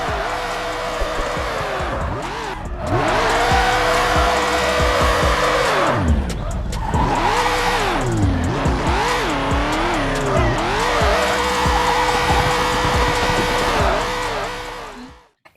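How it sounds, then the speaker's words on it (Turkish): A car drifting in a low-spec PC racing game, with a loud continuous engine whine rising and falling through repeated revs and gear changes alongside tire squeal, running almost the whole time before cutting off at the end. "Ama drift oyun yani oyun isminden de belli olduğu gibi oyunda drift atıyorsunuz"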